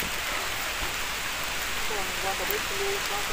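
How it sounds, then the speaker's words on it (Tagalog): Steady, dense hiss of heavy rain pours down continuously, with faint voices barely audible beneath the downpour. "Lakas ang ulan!"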